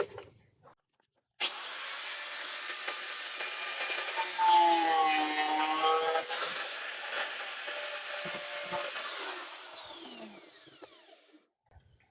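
A section of a Bluetooth speaker's panel is cut away to make room for a D30 amplifier: a steady, close buzzing and grinding runs about nine seconds, then fades out.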